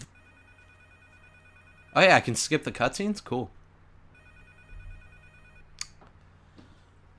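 A phone rings in a video game, with a thin electronic bell tone repeating twice, a person talking over the first ring and a short sharp click near the end.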